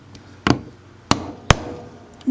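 Sharp tapping knocks set a glued spare tire carrier piece around a rivet on a Chevrolet Silverado, three distinct close hits spaced apart, with a fourth starting at the end, and no talking.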